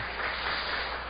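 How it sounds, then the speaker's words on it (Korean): A church congregation claps in dense, even applause for a short, continuous burst. "우리 인도하시고 영광 받으실 주님께 감사 영광의 박수를 올려드리겠습니다."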